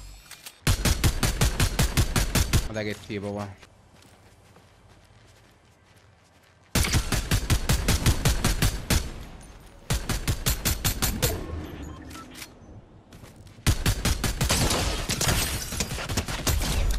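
Rapid bursts of automatic turret gunfire in Fortnite, loud and close, come in several long volleys separated by short pauses, with a brief mechanical whir between them.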